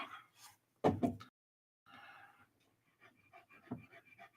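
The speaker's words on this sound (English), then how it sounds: "she's got to be panting and huffing and drilling her funky drool all over the floor" A dog pants and huffs close by in short, breathy bursts separated by pauses, with one stronger huff near the start.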